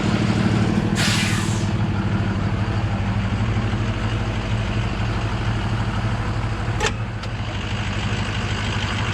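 A moving truck stuck during a backwoods recovery idles with a low steady rumble while its air brakes lock with a sharp, loud hiss near the start, followed by a shorter, fainter release puff later.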